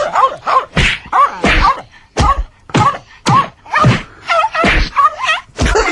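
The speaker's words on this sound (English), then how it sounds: "That's someone beating up a dog." A dog yelps and cries out in sharp, repeated bursts while apparently being hit, a played sound effect of rapid strained squeals and thuds packed close together, loud and near.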